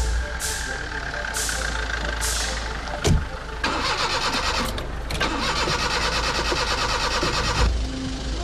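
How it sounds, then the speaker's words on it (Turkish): A car engine cranks several times with short starter whirs, then catches and settles into a loud, steady idle close by, with a sharp knock partway through. "Tamamdır, çalıştır bakalım arabayı."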